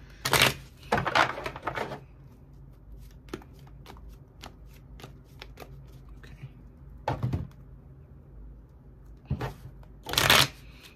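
Tarot cards being shuffled in several crisp riffling bursts, close and clear, separated by quieter pauses with light card taps and handling noises, no voices.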